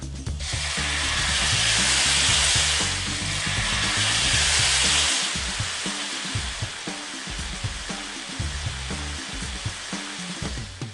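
A tomahawk steak, a two-pound long-bone cut from the prime rib, sizzling loudly on a hot surface at an Italian steakhouse, with a strong hiss that eases after a few seconds into crackling and spattering pops.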